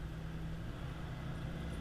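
A white truck on 31-inch BFGoodrich all-terrain tires drives along, giving a steady, close low rumble of engine and tread noise with no talking.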